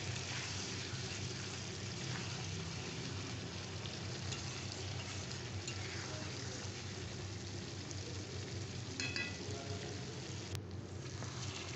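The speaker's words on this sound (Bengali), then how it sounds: "এবার এই মাংসটাকে আমি হাই ফ্লেমে এবার কষে নেব।" Chicken pieces fry and get stirred in a pan over a high flame, giving a continuous loud sizzle with occasional scraping of the spatula.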